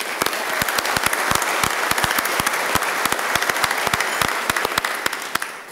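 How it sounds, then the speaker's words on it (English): Loud audience applause at a business ethics awards ceremony, dense steady clapping from a large crowd with sharp individual claps standing out, continuing throughout without speech. "So with that nice round of applause"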